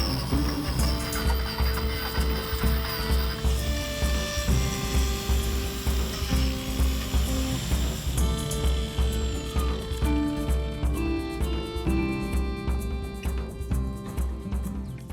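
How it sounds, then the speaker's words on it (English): A rotary power carving tool cuts a weathered, bark-like texture across a wooden bird bath styled like a fantasy treehouse, giving a loud, continuous high whine that pulses steadily with each pass and never stops. "I want to add a weathered, bark-like texture to the bird bath, carving into every inch of it"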